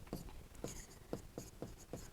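Chalk or marker strokes on a board during a Class 8 maths lesson, a run of about six short scratchy strokes at an even pace, close and fairly quiet, with no talking.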